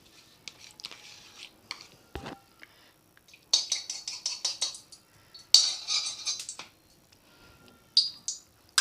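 A spoon scoops ghee and taps against a pan of hot oil, giving light, sharp metallic clinks in short irregular bursts separated by quiet gaps, close and fairly faint.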